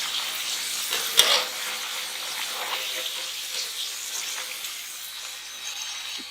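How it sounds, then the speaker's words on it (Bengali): Potato sticks deep frying for homemade crispy french fries, a continuous hissing, bubbling sizzle with one sharp clink early on, steady and close throughout. "একইভাবে আমি 3 থেকে 4 মিনিট এই আলুগুলো একবারে সুন্দর করে ভেজে নেব।"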